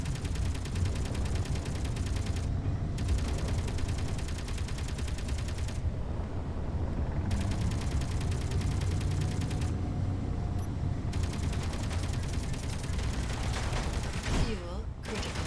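Sustained turret gunfire in the combat game Assertive Combat Systems, dense rapid shots running nearly continuously with brief gaps, loud and close, with a muffled burst near the end.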